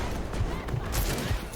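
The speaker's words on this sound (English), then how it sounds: "I love this pistol." Pistol shots fire in the Rage 2 action game: several sharp, loud reports in quick succession over a dense, steady game-soundscape background.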